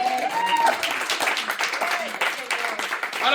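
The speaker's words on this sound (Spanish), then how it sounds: "Denle un aplauso a Cristo." A church congregation applauds during a Pentecostal sermon, a steady wash of clapping with shouts and voices mixed in throughout.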